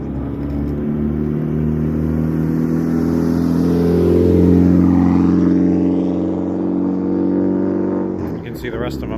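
A rally car's engine rumbles steadily, swelling louder as it rolls close into the service area at the Ridge Rally, then easing off, with a brief clatter at the end.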